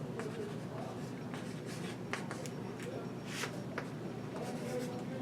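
Marker or chalk writing an equation on a board, with scratchy strokes and brief taps continuing throughout, heard close and fairly quiet against faint background voice.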